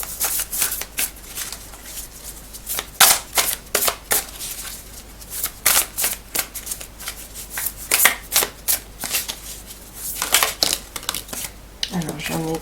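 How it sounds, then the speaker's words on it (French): Playing cards are shuffled and drawn close up in a run of crisp riffles and soft flicks, with brief paper rustles and handling noises between bursts and a short low thump near the end; no talking. "je vais tirer les 3 cartes"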